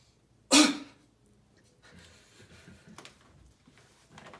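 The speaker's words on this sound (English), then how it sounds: "breathe in and cough at the end of that inhale" One sharp, deliberate cough bursts out close to the microphone during a breathing and coughing exercise, followed by quiet breathing and faint shuffling.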